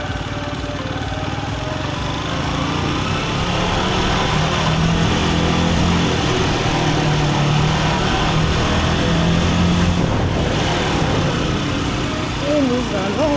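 A 125cc motorcycle engine runs steadily and loud throughout, a continuous buzzing drone with slight shifts in pitch as throttle changes, with wind noise and a brief rising whine near the end.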